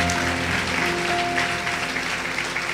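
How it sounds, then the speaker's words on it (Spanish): A church crowd at a miracle crusade gives dense, continuous applause in praise, steady and loud throughout, with a sustained tonal hum of music or organ underneath. "Le damos un aplauso al Señor."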